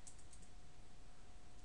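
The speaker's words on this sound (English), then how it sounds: "enable secret, and then you could type your password." A password is typed on a computer keyboard while a Cisco router is configured, with faint, quick key clicks over a low steady hum.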